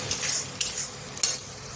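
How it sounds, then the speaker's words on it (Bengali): Spice paste of Kashmiri chilli, turmeric and coriander powders frying in a pan for matar paneer, sizzling steadily while a utensil scrapes and stirs it in a few distinct strokes. "তো মশলা ভালোভাবে কষাবো"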